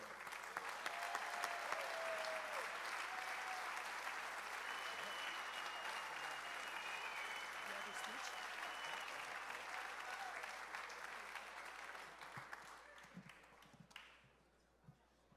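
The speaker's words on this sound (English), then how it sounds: "I invite to the stage, please give a warm round of applause to Samantha Castro-Rico." Sustained audience applause at a golf classic evening event as a speaker is welcomed to the stage, a steady dense wash of clapping that fades out near the end.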